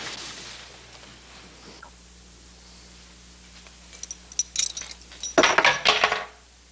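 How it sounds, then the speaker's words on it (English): Keys dropped on a floor in an old Western television scene, a cluster of bright metallic jangles and clinks near the end after quiet room tone, loud and close. "I believe you dropped your keys."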